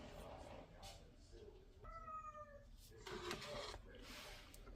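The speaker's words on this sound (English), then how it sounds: "My cat is in the background, if you can hear him. He sounds like he's dying, but he's not." A male cat meows loudly and drawn-out in the background of a kitchen during pie making, several wailing cries with rising tonal harmonics over steady room noise and clatter.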